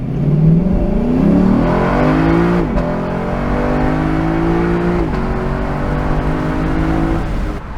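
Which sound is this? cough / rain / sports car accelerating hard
sports car accelerating hard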